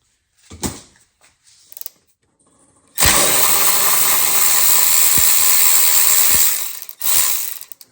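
A hand ratchet runs a bolt back in during AC compressor replacement on a Toyota/Lexus 2JZ engine, a steady dense burst of clicking lasting several seconds after a few faint clunks, close and alone.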